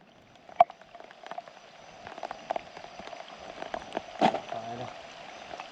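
Heavy rain pours down in a forest, a steady patter on leaves and surfaces with scattered louder drops and a couple of sharp knocks, fairly close and continuous throughout.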